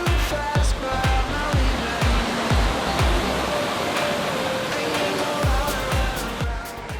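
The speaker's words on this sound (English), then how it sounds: "The falls are 18 meters high and fed by the Sydenham River." The 18-metre falls on the Sydenham River roar with a dense, steady rush of water, loud and continuous, with occasional low thumps underneath.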